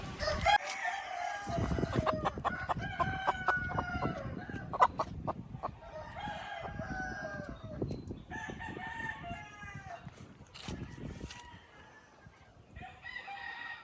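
White Leghorn chickens cluck and squawk busily close by while fed overripe bananas, with a rooster crowing among them and steady rustling underneath; no one speaks.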